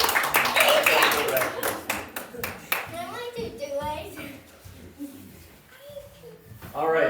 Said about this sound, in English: let's give a round of applause for our volunteer.